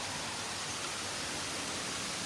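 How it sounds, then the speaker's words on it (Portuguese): A small waterfall in a forest, a steady, even rush of falling water with no breaks, close by and moderately loud, with no voices over it. "Olha o barulhinho da cachoeira."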